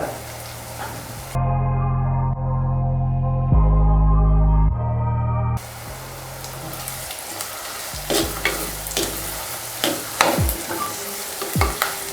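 Curry leaves go into hot oil in a pan with a sudden loud, steady sizzle that shifts in layers, followed by scattered scraping and clinking as the spoon stirs through the frying mixture.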